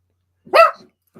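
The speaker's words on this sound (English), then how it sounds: "I don't want him barking on us" A single sharp dog bark, close and loud, followed by a faint short trailing yip about half a second later.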